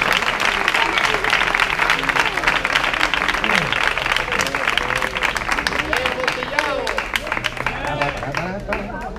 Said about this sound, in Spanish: Un aplauso nos daría cariño.